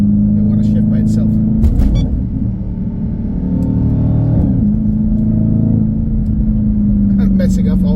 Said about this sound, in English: I'm gonna paddle shift here, so I'll be quiet for a little bit.